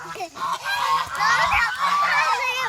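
A flock of geese honks continuously, loud and close, with overlapping calls and a brief low thump partway through.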